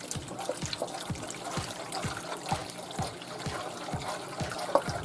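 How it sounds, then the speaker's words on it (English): Three cups of cold water poured into a Swedish meatball sauce of heavy whipping cream, a steady trickle and slosh with soft rhythmic stirring clicks throughout, fairly quiet and without talk. "Now to that, we're adding 3 cups of cold water."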